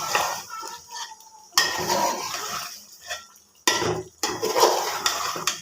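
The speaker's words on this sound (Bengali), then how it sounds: "তো এই তো ভালো করে নেড়ে চেড়ে নিচ্ছি।" Meat and diamond potatoes being stirred in a cooking pot, with repeated metal scraping and clinking of a utensil against the pot in uneven bursts, close and fairly loud.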